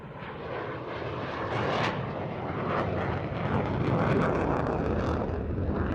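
A Saab Viggen jet aircraft flies past, a broad roaring engine rumble that holds steady and swells slightly, loud and sustained with some wind buffeting.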